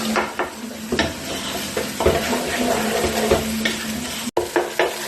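Tomato paste sizzling in hot oil in a pan while a utensil stirs and breaks it up, steady frying crackle with repeated scraping strokes up close, no talk.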